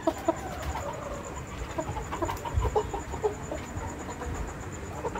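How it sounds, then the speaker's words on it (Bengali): Large giant-variety roosters on a farm cluck in short repeated bursts over a steady barnyard murmur, with a faint high ringing tone running throughout. "এই মোরগগুলো অনেক বড় এবং জায়ান্ট ভেরিয়েন্টের"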